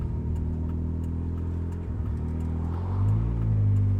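A turbocharged 280hp Mazda MX-5 Miata engine hums steadily while driving, a low droning rumble that swells slightly as it picks up revs near the end.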